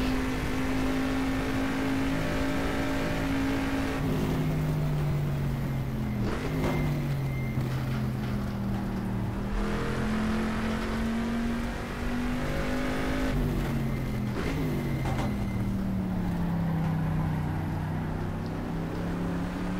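Corvette C3 racing around 1970s Sebring in the GTR2 racing game, engine roaring continuously with repeated gear shifts and revs dropping and climbing through corners.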